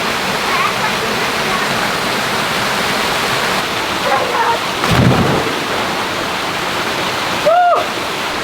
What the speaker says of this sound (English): This is a cool waterfall, this one. You got that flow at the top and it flows all the way down there to the rocks